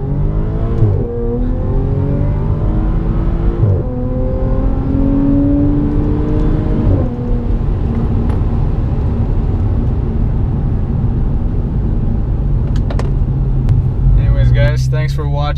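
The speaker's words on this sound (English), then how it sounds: "left foot on the brakes, hard foot right on the accelerator, holds at 3000 RPM" A car in sport mode held on the brake at 3000 RPM and then launched, the engine rising in pitch through repeated revving climbs and gear changes, loud and close, with steady rumble and a voice speaking over it.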